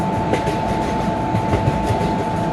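A train runs with a steady rolling rumble and a constant tonal whine, plus faint, regular clickety-clack from the wheels, loud and close throughout, with no voices.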